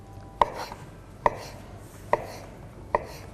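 Cucumber diced with a knife on a cutting board, four sharp, evenly spaced chops ringing out close and clear over quiet kitchen background.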